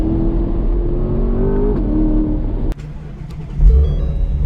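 A 2020 C8 Corvette or Ford Mustang GT350R on a race track, its engine revving up loudly and close, then a sharp click and a lower, rougher engine rumble continuing.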